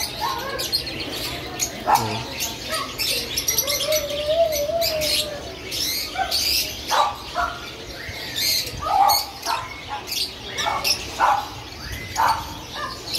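Many caged birds in a Cartimar pet shop chirp, tweet and coo close by, a busy overlapping chorus with occasional wing flutters while someone speaks briefly.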